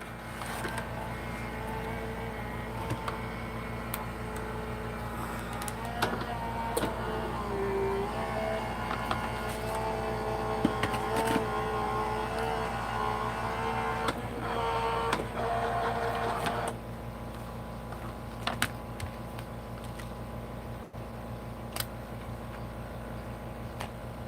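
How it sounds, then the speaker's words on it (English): A die cutting machine runs an embossing folder through with a steady mechanical whir and hum for over twenty seconds, with faint clicks and a slight drop in tone near the end, no voices heard. "And then you got to make sure your machine's turned on. And die cut this baby out."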